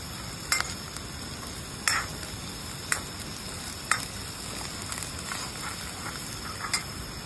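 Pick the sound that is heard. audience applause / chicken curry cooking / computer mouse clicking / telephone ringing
chicken curry cooking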